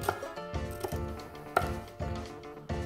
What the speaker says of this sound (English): you slice them